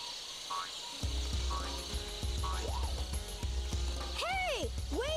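Frog croaking in the Sonic Adventure DX video game: repeated short, bouncy croaks and rising-falling chirps, faster near the end, over steady game music and thumping effects.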